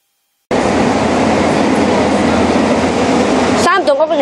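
A subway train roars loudly and steadily through a metro station, a dense broadband rumble that cuts off abruptly near the end, followed by brief voices.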